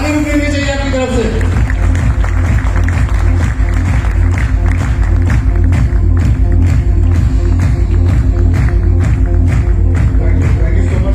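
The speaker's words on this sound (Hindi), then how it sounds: "ताली भी मिलनी चाहिए आपकी तरफ से" Audience applause for Pramod Sahu, group founder of Stepmint, on stage at a Stepmint 3.0 event, steady loud clapping sustained throughout amid crowd noise.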